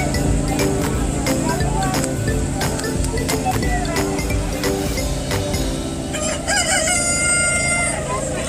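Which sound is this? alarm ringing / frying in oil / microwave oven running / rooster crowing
rooster crowing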